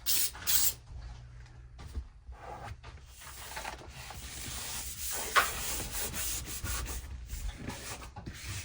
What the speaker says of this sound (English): This Super 77 glue, and I'm just gonna spray